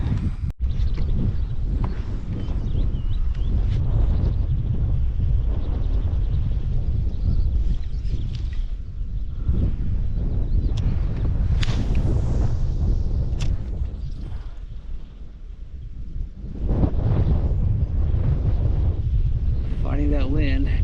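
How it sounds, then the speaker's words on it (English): Strong wind buffets the microphone while kayak fishing in a pedal-drive kayak on open water, a loud, gusty low rumble that swells and drops, with someone talking over it. "That wind"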